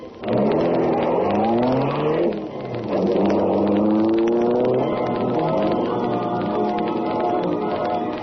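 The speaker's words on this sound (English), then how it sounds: "the sleek, superpowered Black Beauty high-speed car of the Green Hornet" A car engine roars and rises in pitch through two long accelerating sweeps, loud and close and alone, standing in for the Green Hornet's sleek, superpowered Black Beauty high-speed car in an old-time radio drama.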